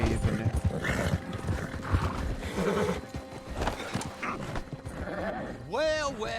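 Horses in Red Dead Online, hooves clip-clopping under a busy mix with a whinnying neigh near the end, heard beneath overlapping talk.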